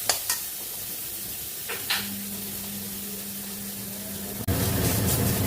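Steady frying sizzle of garlic in a pan over low gas with a few metallic scrapes of stirring, a brief clatter near the end, no voices.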